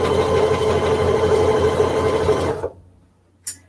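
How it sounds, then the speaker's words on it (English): A sewing machine top stitches along the top edge of a drawstring bag, running steadily and close for about two and a half seconds before stopping, followed by a faint click. "I like to top stitch the very top edge"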